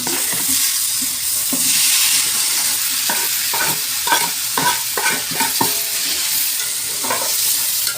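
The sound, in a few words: onions and tomatoes frying and being stirred for chicken curry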